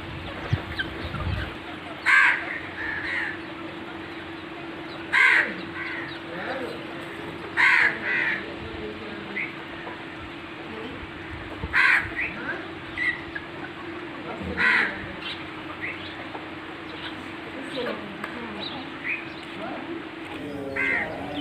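Aseel chickens and a rooster call in a village yard. Loud squawking calls return every few seconds over a steady low hum and faint background murmur.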